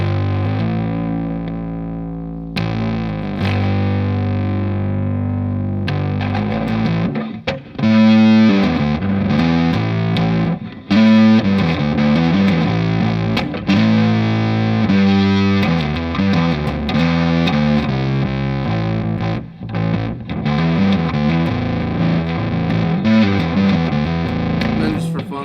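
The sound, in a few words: electric guitar through Earthquaker Devices Blumes overdrive pedal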